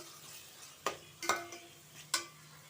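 Tomato sautéing in a pan for mushroom biryani: a faint, low sizzle broken by three or four sharp spoon-against-pan scrapes and clinks, with no talking.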